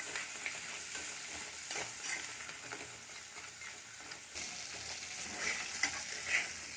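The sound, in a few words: crab frying in oil with salt and turmeric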